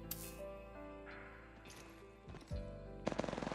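Automatic weapon fire in the Apex Legends video game: a rapid, close burst of evenly spaced shots at the end, following a few scattered pops amid game music and effects.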